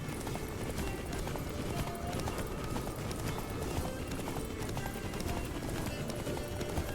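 Geralt's horse gallops in The Witcher 3: Wild Hunt – Blood and Wine with a steady, rapid clip-clop of hooves. It sits inside a dense, constant wash of game ambience and music at a moderate level.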